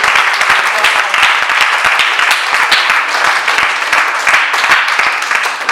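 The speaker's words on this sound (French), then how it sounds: "J'aimerais qu'on acclame le Seigneur pour elle" A church congregation applauding, a loud, close, steady wash of many hands clapping that continues throughout without a break.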